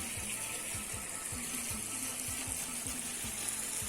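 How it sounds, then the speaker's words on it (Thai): Water steadily running in to fill a tarpaulin fish pond, a continuous gushing flow heard up close with a soft repeating low thump underneath, unbroken and without talking. "ตอนนี้เปิดน้ำเข้า เรื่อย ๆ"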